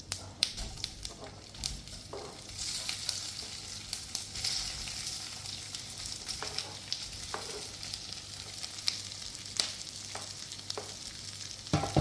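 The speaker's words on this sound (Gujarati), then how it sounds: "વઘાર થઈ ગયો છે. આપણે ઢોકળા નાખીએ." Leftover rice dhokla pieces sizzle and fry in a hot tempering of oil, sesame seeds and asafoetida, a steady close crackle punctuated by sharp pops and occasional stirring scrapes, with no talk.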